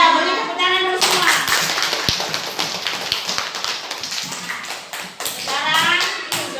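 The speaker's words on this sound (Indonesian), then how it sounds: "beri tepuk tangan dulu semua" A class of children in a school music lesson clapping together in a brief burst, with a teacher speaking before and after the clapping.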